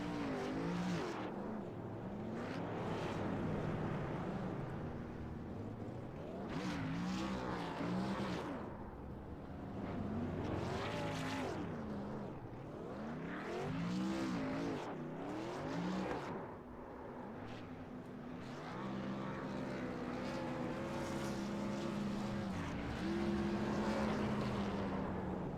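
A race truck revs hard and continuously during a victory burnout at Gateway Speedway, engine roaring loud and near with rising and falling surges across the whole stretch, no talk.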